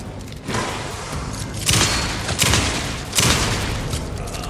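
Heavy gunfire in the survival horror game Alan Wake 2 booms out in several loud, roughly evenly spaced blasts, each with a thick rumbling tail that fills the gaps between shots.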